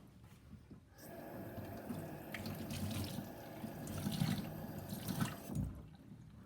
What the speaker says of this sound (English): I'm just going to take it to the sink. Let a little bit of that dye run off.